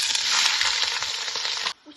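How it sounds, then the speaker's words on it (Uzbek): Onion and tomato frying in oil in a pot make a dense, bright sizzle that holds steady and close before stopping suddenly near the end. "Qozonga yog' solib, piyoz bilan tomatni qovurib olamiz."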